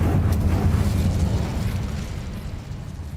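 A fire spell cast in the video game Hogwarts Legacy, a loud, sustained low rumbling burst that slowly fades over a few seconds with no talk.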